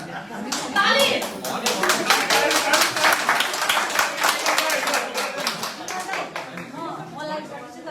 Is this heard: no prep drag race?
no